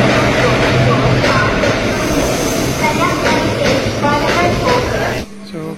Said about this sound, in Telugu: సో గాయ్స్ చూడండి, మన ట్రైన్ అయితే వచ్చేసింది